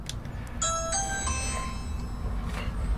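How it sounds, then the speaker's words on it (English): A doorbell chime rings inside a house, a few bright stacked tones sounding in quick succession over a low background rumble, moderately loud and with no talk. "But it does work as a doorbell. It rings here. There's a chime inside."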